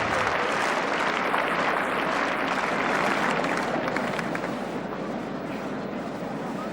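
Sustained, thick applause from a large Wimbledon crowd at the 1977 semi-final between Borg and Gerulaitis, loud and continuous for several seconds before easing slightly toward the end.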